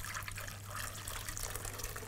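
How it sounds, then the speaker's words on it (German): Veal stock is poured through a sieve in a kitchen, making a faint, continuous liquid trickle and splash with no talking. "Jetzt geht man her, gießt den Fond einfach über ein Sieb ab."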